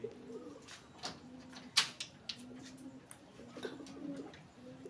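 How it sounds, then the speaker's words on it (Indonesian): Caged pigeons or doves cooing softly in low repeated phrases at a moderate distance, with a few brief sharper sounds like wing flaps or cage knocks mixed in. "Nah ini burungnya. Ini kandangnya bersih ini."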